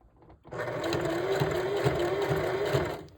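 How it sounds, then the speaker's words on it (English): A sewing machine runs in one continuous burst, stitching hair tracks onto a mesh dome cap, with a steady whirring hum and faint rhythmic needle thumps heard close up. "you are going to the end like this in the beginning of the track as well when you are sewing it on"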